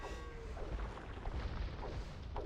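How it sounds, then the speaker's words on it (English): An explosion in a medieval real-time strategy game, heard as a dense, rumbling burst of noise with low booms that fills the whole short moment, no voices. "Nice explosion there. Very nice explosion."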